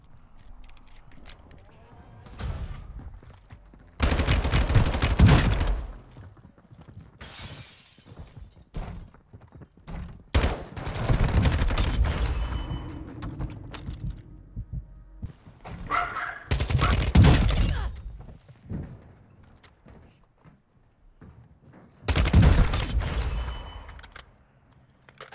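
Gunfire from a TAQ-V rifle build in a shooter video game, heard as several loud, rapid bursts separated by quieter gaps, with a voice talking in between.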